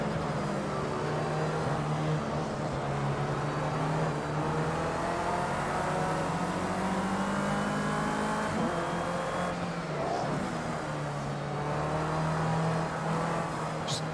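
A race car engine in Project Cars 2 drones steadily up close, rising and falling through the gears as it accelerates, with brief tyre squeal, the car driven hard on an unfamiliar track.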